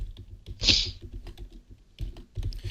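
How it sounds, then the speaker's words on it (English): Fast typing on a computer keyboard, a dense run of close clicking keystrokes with a couple of louder bursts, heard alone. "I'm just typing a tweet real quickly."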